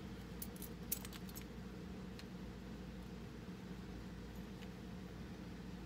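Automotive keys jangle as they come out of a pocket, a few brief metallic clinks near the start and one later over a steady low room hum, with no talking.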